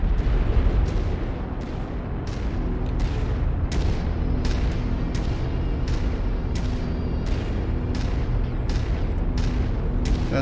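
Missiles explode repeatedly in a combat video game, a rapid series of loud, sharp blasts and booms over a rumbling layer of constant battle noise.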